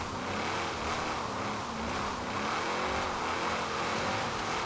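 A Shelby 1000 sports car engine in the video game Forza Horizon 4 revs steadily and loudly, a continuous droning roar with a rising pitch as it accelerates.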